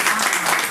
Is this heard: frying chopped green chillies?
no